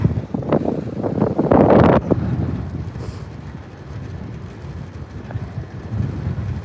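Strong wind buffets the microphone during an early-morning bike ride to work in the dark. A loud rushing roar fills the first two seconds, then settles into a steady low rumble.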